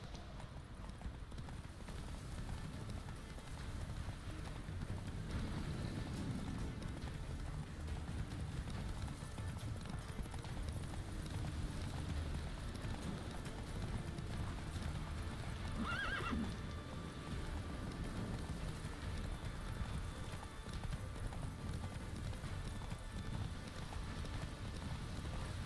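Roach the horse gallops in The Witcher 3 video game, a rapid, continuous clip-clop of hooves with occasional neighs, moderately close against a constant ambient wash.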